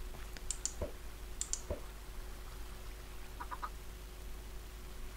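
Several short, clucking Minecraft chicken calls with sharp clicks in between, quiet and sparse over a steady low electronic hum.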